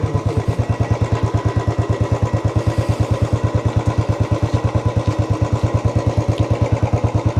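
A motorcycle engine thumps in a fast, even rhythm, loud and close, with no voices over it, near the Virupaksha Temple in Hampi.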